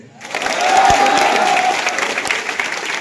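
Audience applause at a college freshers' welcome event in Suri, clapping swelling quickly and holding at a dense, full level for a few seconds, fairly close and loud.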